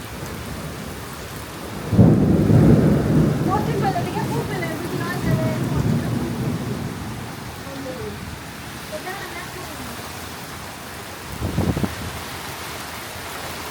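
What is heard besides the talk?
heavy rain on a tin-roofed house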